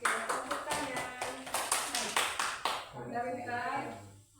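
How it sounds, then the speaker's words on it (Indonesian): Clapping from an audience at a school teachers' presentation, steady rhythmic claps near and fairly loud, fading into talk at the end. "Oke, tepuk tangan."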